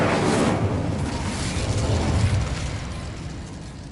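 The Incendio fire spell in Hogwarts Legacy erupts with a loud burst, then a dense roaring whoosh of flame that holds steady and slowly eases off.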